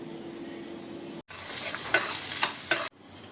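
Onions, garlic and green chillies hit a hot pan with a sudden sizzle lasting under two seconds, punctuated by a few crackling spikes, after a quiet stretch with a faint steady hum.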